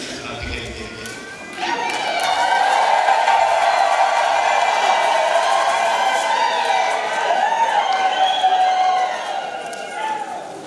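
A crowd ululates in celebration at the launch of an education policy in Musoma, Tanzania. The trilling cries waver loudly and continuously for several seconds over a background of crowd noise.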